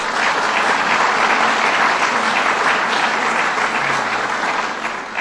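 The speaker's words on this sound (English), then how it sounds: "Give them a round of applause." An audience at a bill-signing event in Buffalo claps loudly and steadily for several seconds, a dense wash of applause that tapers slightly at the close.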